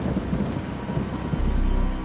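Rain pours steadily over rumbling thunder that swells near the end, a dense, continuous storm wash with low booming underneath and no voices.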